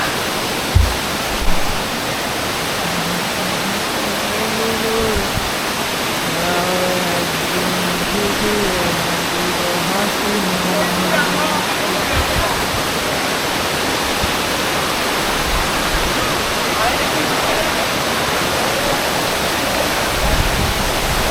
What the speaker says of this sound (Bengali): এই সেই ধূপপানি ঝর্ণা যেখানে আসার জন্য এত কষ্ট করলাম